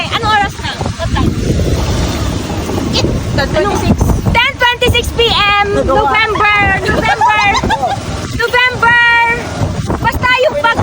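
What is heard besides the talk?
strong typhoon wind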